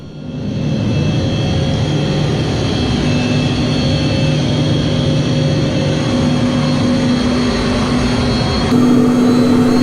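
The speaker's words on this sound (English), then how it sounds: "Here at the back of the Yak 40, I'm surrounded by 3 Soviet jet engines." Three Soviet jet engines of a Yak-40 roar loudly and steadily inside the rear cabin near the galley, a constant dense whine with a low droning rumble throughout.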